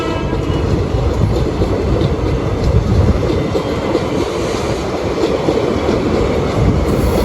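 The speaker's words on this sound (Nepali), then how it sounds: "ट्रेन जाँदैछ, कतिको लामो छ हेरौँ न।" An Indian train passing close by, a loud continuous rumble with rattling wheel clatter and rail noise sustained throughout, with no talk over it.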